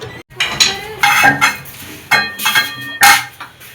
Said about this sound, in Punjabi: ਮੰਮੀ ਜੀ ਧੋਂਦੇ ਪਏ ਭਾਂਡੇ